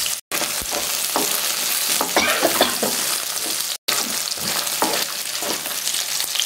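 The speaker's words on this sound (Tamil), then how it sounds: "இது கொஞ்சம் வதங்கட்டும் வெங்காயம்" Small onions and garlic sautéing in a pan for a travel-friendly chutney, a steady dense sizzle with stirring scrapes throughout, cut by two brief silent gaps.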